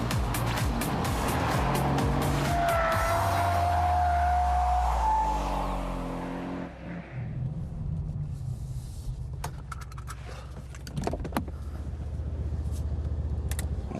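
A car in race mode drifts around curves, its engine roaring close as tires squeal in a long rising screech, then the sound fades into quieter rumble with scattered sharp clicks and knocks.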